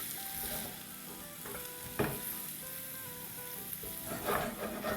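Salt and black pepper stirred through a frying pan, a soft steady sizzle with a few light utensil scrapes and clicks, fairly quiet and without voices.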